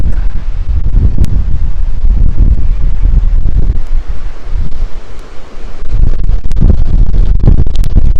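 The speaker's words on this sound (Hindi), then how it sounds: "तेज़ हवा चलती है यहाँ पर शाम के वक्त।" Strong evening wind at Mountain House Creek roars and buffets the microphone in loud, gusty bursts throughout, with a rushing low rumble that surges and eases.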